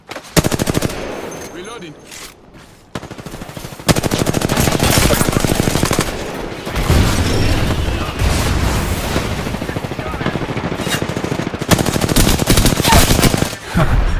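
Rapid automatic gunfire from the Apex Legends video game, loud and close, with dense bursts running almost continuously. There are a few short lulls near the start, and a voice is faintly audible at times.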